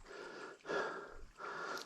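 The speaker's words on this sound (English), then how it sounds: "You can hear me breathing hard" A hiker on a forest trail breathes hard after a steep climb, with three heavy, close breaths drawn in and out in a steady rhythm and no talking.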